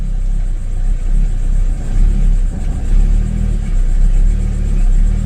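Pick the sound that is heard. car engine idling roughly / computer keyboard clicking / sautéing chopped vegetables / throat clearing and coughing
car engine idling roughly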